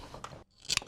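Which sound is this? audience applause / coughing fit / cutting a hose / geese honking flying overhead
cutting a hose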